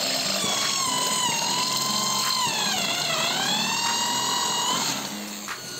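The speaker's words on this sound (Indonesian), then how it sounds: "Kemudian saya coba untuk mengebor menggunakan mata bor step drill. Saya mengebor masih di bahan besi holo." A Bosch GBM 350 electric drill fitted with a step bit bores into hollow iron tube, giving a loud, steady high-pitched whine that sags and recovers in pitch as the bit bites, with no talking.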